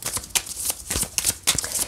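Tarot cards are shuffled by hand for a Gemini love reading, a close run of papery riffling and slapping bursts in an uneven rhythm with no voice over it.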